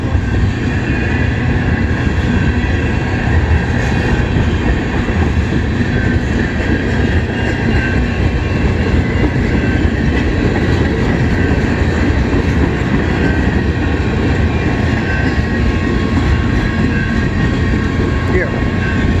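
A CN freight train with tank cars rolls past close by in Kimball Township, a loud continuous rumble and rail clatter filling the whole stretch without letup.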